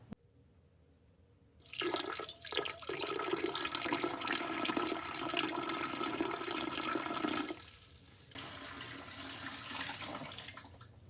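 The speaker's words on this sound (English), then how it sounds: "we're gonna put them in a pressure canner with some water" Cold tap water pours steadily into a pressure canner holding filled jars, a loud continuous gushing rush that starts abruptly, runs for several seconds, briefly drops, then resumes a little softer.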